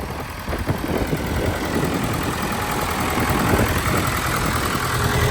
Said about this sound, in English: Case 580K 4-wheel drive construction king machine here.